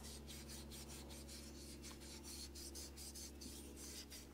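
Wire wool soaked in WD-40 scrubs rust from the inside wall of a Mountfield 414 lawnmower carburettor bowl, making quiet, rhythmic rubbing strokes that repeat steadily and close by.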